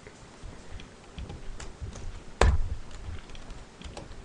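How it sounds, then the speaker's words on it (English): A computer keyboard clicks as a server address is typed, sparse light keystrokes with one louder sharp tap midway, close and fairly quiet, no talking. "you type in empirebuilders.dymdns.org"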